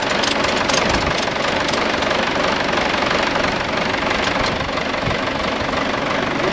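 A tractor engine idles nearby, loud and continuous, with a rough rumbling knock and a faint rhythmic ticking over the steady drone. No one speaks.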